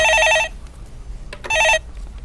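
Telephone rings twice for an incoming call to a stock-market call-in show, two clear electronic bursts with a pause between them, loud and close over faint studio background.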